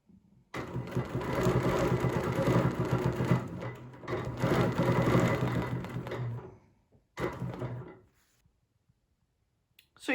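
A sewing machine runs in bursts, stitching circles on fabric with a steady rapid whirring that stops and restarts several times, then falls quiet, close and clear with no talking.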